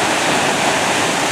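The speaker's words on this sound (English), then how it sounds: "Here's a couple more waterfalls here at the Rifle State Park" A waterfall at Rifle State Park in Colorado pours in a steady, loud, broadband rush that fills the whole moment without a break, close by, with no voices over it.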